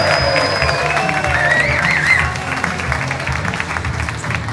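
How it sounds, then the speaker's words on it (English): Applause and cheering from a live rugby podcast audience, steady crowd clapping with whoops and a whistle, loud at first and easing slightly toward the end. "Come on, give them a round of applause."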